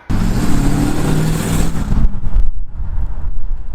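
A 1991 Camaro Z28 V8 engine revs loudly and continuously, then the roar dips briefly and climbs again, close and with no talking.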